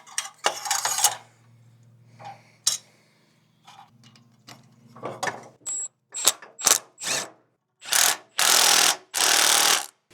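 Bolts being started and tightened during a Treal Performance Vader exhaust install on a Segway Villain: scattered metallic clinks and taps, then several loud bursts of ratcheting near the end, with quiet pauses between.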